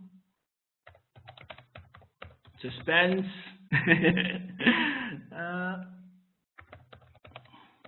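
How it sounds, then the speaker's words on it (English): Clicky typing on a computer keyboard in bursts at the start and end, with a person speaking and chuckling in between. "I'm typing"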